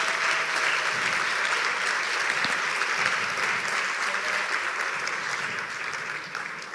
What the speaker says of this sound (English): There is a big round of applause